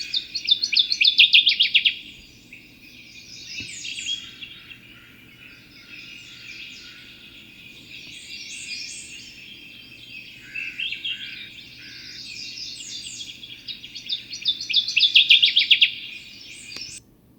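Bird song from a waterside species in British Columbia's Bulkley Valley: bursts of high whistles that start widely spaced and come closer and closer together, the densest stretches at the start and end, over a faint low steady hum.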